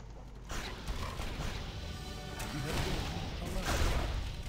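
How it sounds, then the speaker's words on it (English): Shotgun blasts in the video game Torchlight 2, dense crashing gunfire repeating through the clip amid busy game noise, with a voice talking over it. "Oh my god, the shotgun just annihilates."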